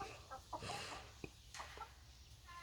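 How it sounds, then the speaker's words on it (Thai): Young laying hens about four to five months old cluck softly in a backyard flock, with scattered short clucks and calls at a moderate distance against faint background noise. "ไก่สาวครับ ไก่สาวสี่เดือน ห้าเดือน"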